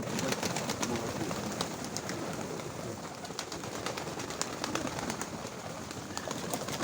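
Pigeons coo steadily in a dense, continuous chorus in a village loft in Chornobaivka, Mykolaiv region, with occasional wing flutters and bird calls over a constant background murmur.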